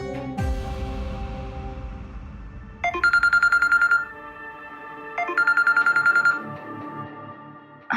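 A telephone rings for an incoming call in two bursts of electronic ringing, each about a second long and a couple of seconds apart, coming through clearly over a low background hum.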